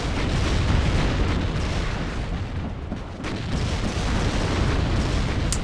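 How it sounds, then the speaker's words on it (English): Incoming artillery fire in the Cold War strategy game WARNO, a dense, continuous roar of overlapping explosions and booms rumbling loudly throughout with no let-up, dipping only briefly midway. "you do see the artillery coming in there"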